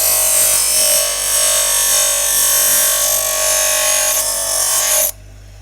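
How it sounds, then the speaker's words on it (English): A power grinder grinding a nail flat on the sole of a tap dancing shoe, a loud, steady high-pitched whine with a gritty edge, running continuously for about five seconds before cutting off abruptly. "we just bring the shoe over, and we're going to grind it down flat so that it doesn't dig into the floor"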